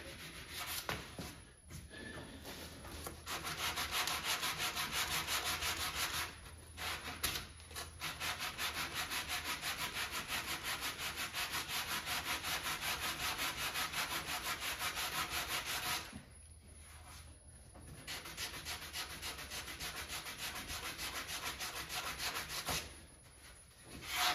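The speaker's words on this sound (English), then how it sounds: "Ease the edge over with the sandpaper." Sandpaper rubbed by hand along the edge of a wooden Tapper arcade cabinet side, rounding over a corner; steady close scratchy strokes run almost continuously, broken by a few short pauses, with no talking.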